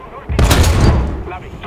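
A tank gun fires in War Thunder, one loud heavy blast with a booming low rumble that decays over about a second, followed by quieter background game noise.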